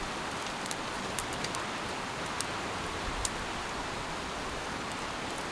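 Steady rain hisses at a riverside tent campsite with a few sharper drips and taps scattered through it, fairly quiet and constant.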